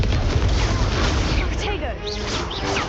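A Confringo blasting spell explodes during combat in Hogwarts Legacy, with crackling blasts and impacts in a dense, loud battle mix and a voice calling out spells over it.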